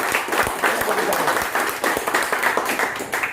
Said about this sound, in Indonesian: Entar loh, tepuk tangan dulu Pak Manajer dong.